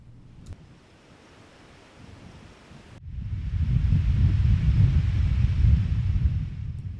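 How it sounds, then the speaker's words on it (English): Strong gusting wind roars across an open railway line at the Lake Park Curves in Becker County, Minnesota, quiet at first and then rising after a few seconds into a loud, sustained buffeting rush against the microphone. "It's a windy and blustery day at the Lake Park Curves in Becker County, Minnesota."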